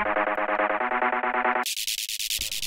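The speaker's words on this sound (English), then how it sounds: "We have a bit of multiband distortion where we're doing the lows," A buzzy synth with multiband distortion on lows, mids and highs pulses in a fast steady hard rave techno rhythm, then jumps to a brighter, higher register with echoing repeats; loud and up close, no talking.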